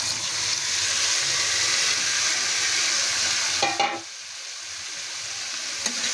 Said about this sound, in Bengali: এখন আমি ম্যারিনেট করে রাখা চিকেনটা দিয়ে দিচ্ছি।